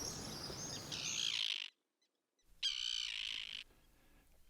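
Flocks of birds on a summer day give shrill, buzzing screams in two loud bursts separated by a short silence, close and harsh over faint background noise, with no voices.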